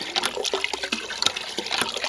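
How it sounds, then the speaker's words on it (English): Water pours from a hand pump into a bucket, a close burbling, splashing gush with uneven surges as the handle is worked. "just in case you thought I was making believe I was pumping water"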